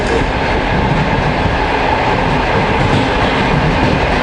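A train on the Trans-Siberian Railway runs along with a loud, continuous rumble and rattle of wheels and carriages, heard up close from on board.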